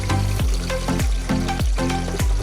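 Garlic sizzling in hot oil for sautéed sardines at a provincial campsite, a steady loud frying hiss with regular stirring or scraping knocks about every half second, no voices.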